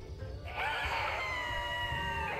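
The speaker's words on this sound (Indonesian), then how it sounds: "Jelek banget teriaknya" A character in the video game Fate Samurai Remnant lets out a loud scream that starts after a brief lead-in and holds as one sustained, strained cry to the end.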